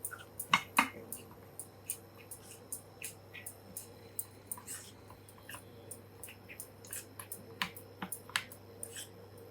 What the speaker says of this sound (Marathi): त्यात मी 2 चमचे मैदा घालणार आहे. आणि व्यवस्थित चांगलं असं फेटून घ्यायचं.